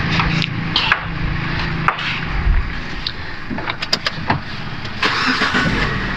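A Proton Preve car engine starts up close by, with clicks and a brief crank before a steady running hum.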